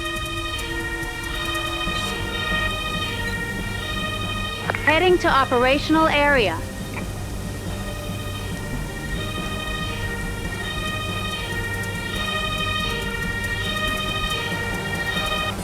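Ambulance siren in the Emergency video game, a wailing rising-and-falling tone bursting out for about two seconds midway, over steady game background with music and a spoken radio voice.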